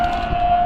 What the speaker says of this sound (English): sorry about the tornado siren